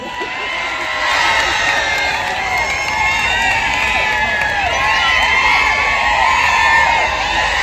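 At a college comedy show in Uchana, young audience members shriek and whoop in shrill, wavering cries over a loud crowd roar, with scattered cheering, shouting and some clapping continuing throughout.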